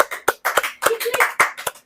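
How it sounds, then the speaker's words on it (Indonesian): A few sharp, uneven hand claps from an audience at a gathering, mixed in with voices over a couple of seconds. "Tepuk tangan dulu."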